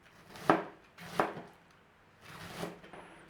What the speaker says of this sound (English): Our cabbage then, very thinly sliced.